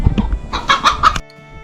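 Several quick hen clucks from homestead chickens, close and fairly loud, in a short burst that cuts off into near silence.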